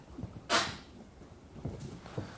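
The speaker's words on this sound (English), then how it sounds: "I'd love to see the dogs jump on me." Dogs move about inside an office, with soft paw scuffles and snuffling sounds. One sharp knock breaks the quiet early on, and everything stays faint and close.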